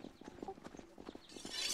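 Horse hooves clip-clop in a medieval multiplayer battle game, a quick run of rhythmic, fairly faint steps beneath shouting and battle noise.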